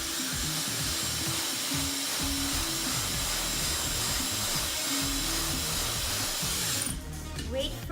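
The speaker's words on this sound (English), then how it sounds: "take your dryer" A hair dryer blows as someone dries their own hair, a steady, close, loud whooshing roar that runs for several seconds and then cuts off near the end.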